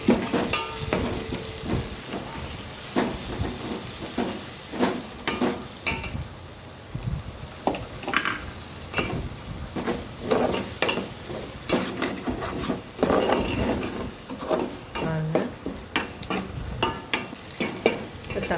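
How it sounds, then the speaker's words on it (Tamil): A ground masala paste for coconut paarai fish biryani sizzles in a pan while a spoon stirs and scrapes against it, giving a steady hiss broken by frequent clinks and scrapes. "இப்போ நம்ம அரைச்சி வச்சுருக்கிறத போட்டுக்கலாம்"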